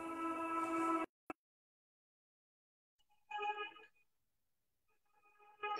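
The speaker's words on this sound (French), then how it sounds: "La notification." A phone notification sounds as short electronic chime tones: one clear burst, a brief click, then two more tones spaced apart by silence.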